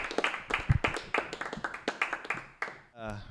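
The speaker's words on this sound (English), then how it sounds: "Big round of applause for the very funny man, Daniel Dagris" A stand-up comedy audience claps in a lively burst of applause, hands smacking in quick irregular rhythm, fading out near the end.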